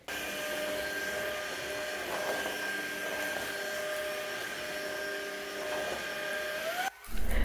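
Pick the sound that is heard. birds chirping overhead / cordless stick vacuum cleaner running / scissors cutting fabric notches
cordless stick vacuum cleaner running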